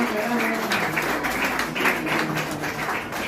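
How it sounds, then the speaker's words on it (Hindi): An audience at a teachers' farewell ceremony claps in a sustained, dense round of applause that stays steady and fairly loud throughout. "जोरदार तालियों स्वागत किया सर"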